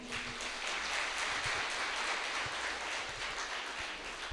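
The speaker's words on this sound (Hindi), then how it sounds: "सुन रहे तो अच्छा से फिर से और एक बार ताली बजाएंगे हम" An audience at a church fasting retreat claps together in sustained, dense applause, loud and steady for several seconds with no talk over it.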